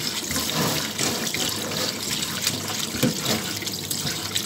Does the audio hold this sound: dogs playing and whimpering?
no